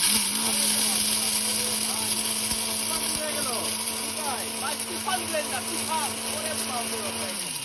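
An Orpat blender grinds whole lentils with a loud, steady motor whine, while gritty rattling chatter rises over it and then fades as the grinding continues.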